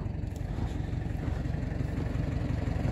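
A farm tractor engine runs steadily at close range with a low, rhythmic throb and faint clatter while cows are fed silage, continuous and unbroken with no voices.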